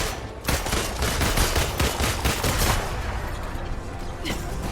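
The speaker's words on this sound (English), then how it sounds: "Black Widow and her dual pistols" Dual pistols firing in quick succession in the Marvel's Avengers video game, a dense, loud burst of overlapping shots that carries on steadily through the clip.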